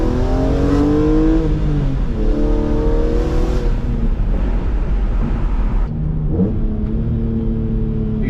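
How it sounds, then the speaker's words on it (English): BMW E46 M3 CSL engine blipping the throttle to rev-match a downshift into second gear while driving, with a loud, steady engine drone whose pitch sweeps up and down through several rises and dips. "You can see the CSL rev match downshifting right there when I went into second."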